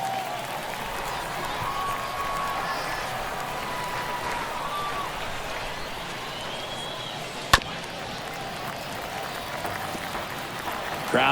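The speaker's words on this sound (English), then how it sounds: "Crowd locked in right now." A stadium crowd in the baseball game MLB The Show 22 keeps up a steady, dense roar throughout, with a single sharp crack partway through and a commentator's voice faintly beneath.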